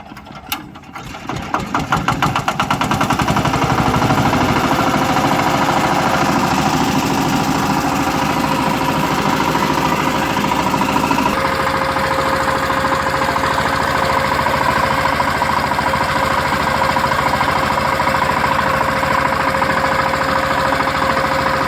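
A tractor engine is started by hand with a lever crank and settles into a loud, steady, knocking diesel idle close by, running continuously for about twenty seconds.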